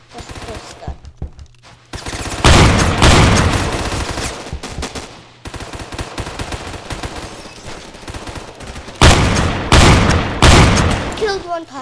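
Gunfire in the Roblox video game comes in repeated loud bursts of rapid shots with sharp booms, broken by short quieter gaps, over a continuous game soundtrack.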